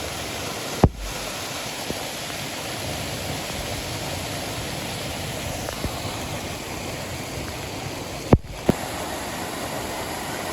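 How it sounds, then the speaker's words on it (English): Small waterfall on a rainy Great Smoky Mountains trail, a steady broadband rush of falling water filling the whole stretch, with a few faint clicks and knocks over it and no talk. "Nice little waterfall there."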